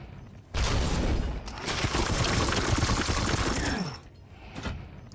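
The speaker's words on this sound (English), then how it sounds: "Well, I could run up and shoot from here." Sustained gunfire in the Warhammer 40,000: Chaos Gate - Daemonhunters video game rips in abruptly as a dense, heavy burst of shots and booms. It stays loud for about three seconds, then drops off with a smaller flare near the end.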